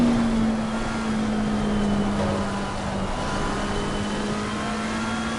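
Race car engine in Assetto Corsa Competizione at Brands Hatch, played on PS4, holding a steady loud drone with a sustained tone that dips slightly and then holds, continuous and close with no talk.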